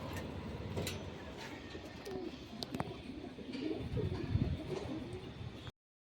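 Pigeons coo softly in a coop as they drink from a water dish, low murmuring calls repeating steadily over faint rustling and movement.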